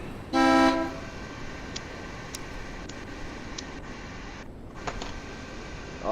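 A bus horn in the Foxhole war game gives one short, loud honk, followed by a quiet stretch with faint ticks and clicks.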